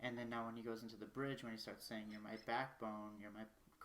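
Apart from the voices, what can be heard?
No everyday noises stand out.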